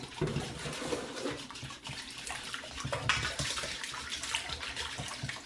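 Milk pours steadily for a breakfast tortilla bake, a continuous close liquid splash and gurgle running the whole time with no talking.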